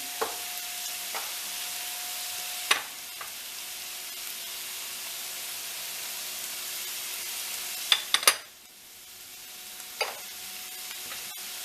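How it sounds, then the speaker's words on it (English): Pepper and onion sizzling steadily in a pan, a soft continuous fry, with a few sharp scrapes and taps of a utensil stirring, the loudest near the end before the sizzle briefly drops and returns. "Give it a stir. You want that pepper and onion flavor to meld"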